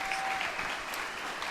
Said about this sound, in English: Big round of applause for everybody one last time.